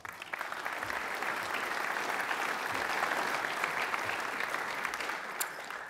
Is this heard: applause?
yes